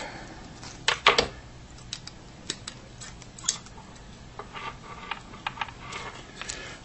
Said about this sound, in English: now we'll cut off the excess